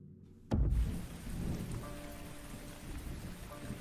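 Rain falls in the intro scene of the game The Foretold: Exordium. A sharp thunder crack breaks out early, and a steady, hissing downpour with low rumbling continues after it.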